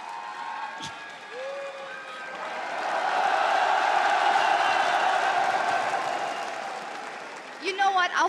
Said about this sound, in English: They're cheering so much.